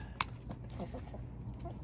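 Backyard chickens cluck softly after getting a treat, with a sharp short call near the start and a few quieter clucks over low background noise.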